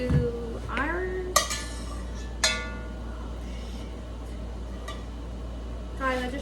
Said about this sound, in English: I'm using my spoon on my new pot that I'm not supposed to be using